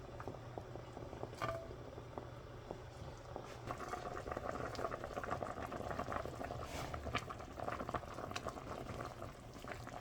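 Irish stew with lamb boils in a pot, giving a steady bubbling and gentle popping that carries on throughout, fairly quiet and alone with no voices.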